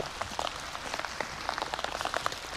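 Rain patters steadily on a surface, a soft, dense crackle of drops with scattered louder taps, faint and continuous throughout.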